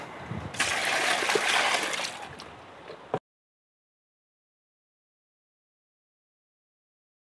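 Rainwater from a first flush diverter tap splashes steadily in a close, loud gush for about three seconds, then cuts off abruptly into silence.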